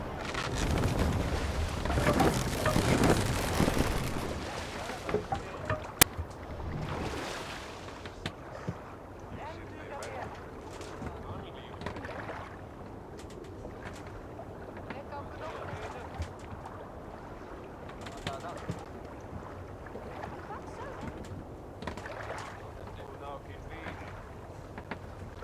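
A Viking longboat is rowed in the game Assassin's Creed Valhalla. Loud wind and rushing water swell at the start, then settle into steady splashing and creaking under occasional voices.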